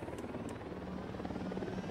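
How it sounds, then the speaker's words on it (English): A helicopter passes in a Tom Clancy's military video game, its steady rotor drone close and continuous for a couple of seconds with no talk. "Letting the unidad helicopter pass."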